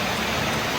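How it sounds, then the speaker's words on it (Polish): Heavy tropical rain pours down in Ao Nang, Krabi, in a steady, dense roar, close and loud with no pauses. "Nagle zaczęło tak padać."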